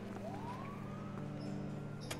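A faint siren wail rises and holds in a hospital scene from the video game A Way Out, set low under a steady background hum.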